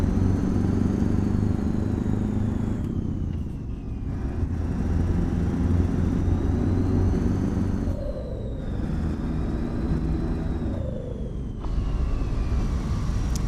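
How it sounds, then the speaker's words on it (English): Modded Scania DSC truck engine with its engine brake in a truck-driving game, a loud, steady droning rumble whose pitch rises and falls through gear changes and slowdowns, with no talk. "Engine brake is good."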